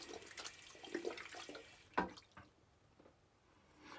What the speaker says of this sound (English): Dry my hands here, or rinse my hands.